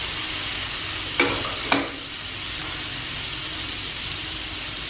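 Shallots frying in a hot pan with fish sauce and sugar seasonings, a steady close sizzle throughout, broken by two brief sharp clatters of stirring near the start.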